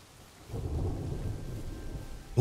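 Thunderstorm ambience in the survival game Smalland: a steady wash of rain with a low rolling rumble of thunder, ending in a sudden loud, close crack of thunder.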